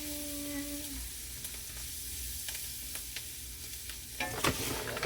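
Vegetables in a pot for a rooster and dumplings dish get flour stirred in, with a soft sizzle underneath and scattered scraping stir strokes, quiet and close, busier near the end, with no talking.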